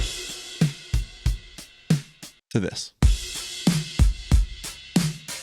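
A punchy indie pop drum beat with thumping kicks and crisp snare hits in a steady groove, briefly broken by a short spoken phrase.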